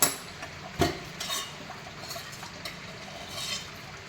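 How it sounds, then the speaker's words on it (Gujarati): A spoon stirs ghee into cooked upma in a pan, producing soft scraping with a few light metallic clinks, close up and fairly quiet. "એ માટે આપણે એમાં ઘી એડ કરીશું અને મિક્સ કરીશું."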